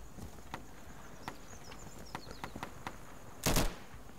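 Gunshots in the tactical shooter game Insurgency, a series of faint, distant single cracks spaced irregularly, followed near the end by one louder, closer burst of fire.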